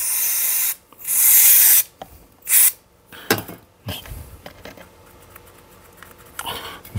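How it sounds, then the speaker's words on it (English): Brake cleaner sprayed into a Morris Minor carburettor: a long hissing burst and a shorter second burst, followed by softer spatter, dripping and light clatter, close up with no talk. "give it a clean out with some brake cleaner and catch it all in the tub"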